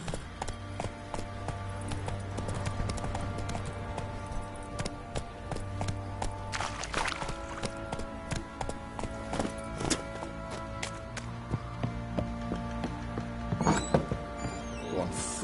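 Horse hooves clop in the Witcher 3 video game, a running stream of rhythmic thuds under steady background music.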